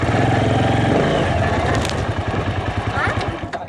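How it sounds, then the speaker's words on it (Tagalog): A motorcycle engine runs with a rumbling, pulsing drone while the bike is ridden, steady and close, with people's voices talking over it throughout. "Nagdodrive ng motor"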